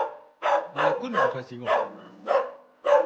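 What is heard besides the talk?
rural local dogs barking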